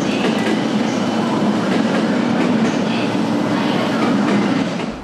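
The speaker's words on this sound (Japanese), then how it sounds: "ガタンゴトン、ガタンゴトン。 一番電車がゆっくりとホームに入ってきました。" The first Chuo Line train of the day rolls slowly into a station platform, a loud, close, steady rumble of wheels on rails with faint rhythmic clacking and a dense mechanical roar throughout.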